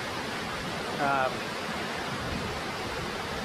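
A waterfall pours down in the cold, a constant broad rushing wash heard from a distance, steady throughout with a brief faint chirp over it.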